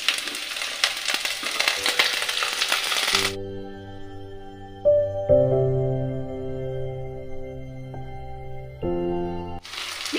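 Chopped garlic, onion and tomato with bay leaves fry in oil, giving a crackling sizzle at the start and again at the very end. A long stretch of tonal music fills the middle.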